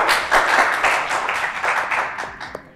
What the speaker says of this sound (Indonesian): Tepuk tangan buat Desir